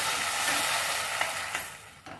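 Jaggery and a few spoonfuls of water hit a hot tempering in the pan and sizzle steadily while being stirred, with a loud, even hiss that fades slightly toward the end and a couple of soft clinks.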